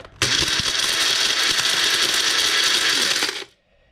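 Loud, steady motor whine of an electric juicer grinding citrus peel for about three seconds, then cutting off and spinning down.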